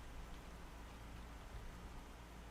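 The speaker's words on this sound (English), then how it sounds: "since it's nighttime and it's pouring rain." Heavy rain pouring down at night in the Cyrodiil wilderness of the game Oblivion, a steady dense hiss of downpour that fills the whole stretch evenly without pause.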